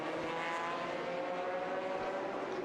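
A GT race car at the Bahrain circuit during a 2005 FIA GT Championship round roars past with a steady, droning engine note.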